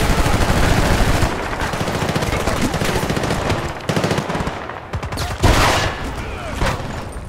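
Dense automatic gunfire from Battlefield Bad Company 2 rattles in loud, sustained bursts with a few heavier shots, and a player's voice breaks in briefly.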